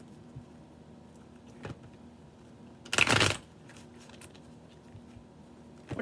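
A deck of tarot cards is shuffled in a single brief riffle burst midway through, with soft handling taps before and after in an otherwise quiet room.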